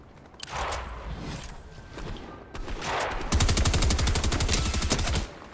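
SMG fire in the video game Fortnite comes as loud, close rapid bursts, with a steady fast rattle of shots in the final seconds, alone without talk.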